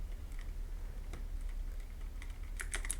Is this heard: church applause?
no